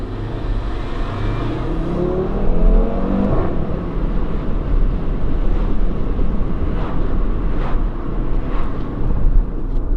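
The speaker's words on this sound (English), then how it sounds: "So let's give this a little bit off these traffic lights, and you can see what the car sounds like." A turbocharged 2.5-litre 2018 Audi RS3 accelerating hard from traffic lights, a loud, steady engine roar rising in pitch through the gears, heard from inside the car with no talking.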